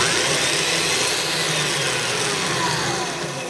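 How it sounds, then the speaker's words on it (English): A Black & Decker power drill runs continuously with a steady, loud motor whine and a broad buzzing hum, easing off slightly near the end; the drill hesitates when switched on. "Now I'm not sure why the drill hesitates when you switch it to on"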